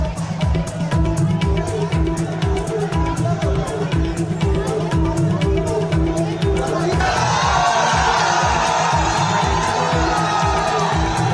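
Dense street protest crowd in Indore, with loud continuous hubbub, shouting and cheering from many people, a steady rhythmic pulsing running underneath and the roar growing fuller and brighter toward the end.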